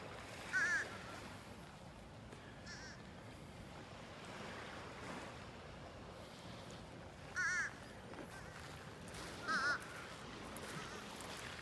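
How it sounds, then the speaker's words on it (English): Three short blackbird calls ring out at intervals over steady wind and surf at Naples Pier beach, the calls moderately loud against the constant roar. "Those are blackbirds that are calling out that we hear here."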